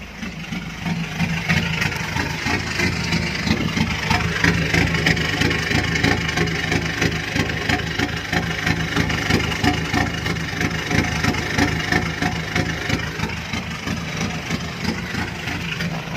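A Ford Ranger 2.2 diesel running with an electronic throttle box set to its sixth sound mode gives a steady, continuous engine rumble with a dense low throb, held at an even level throughout with no talking.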